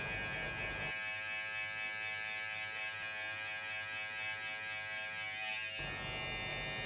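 Close, steady buzz of an electric hair clipper cutting and blending a fade on a head, its hum shifting in tone for a few seconds mid-pass as the blades bite into hair, no voices.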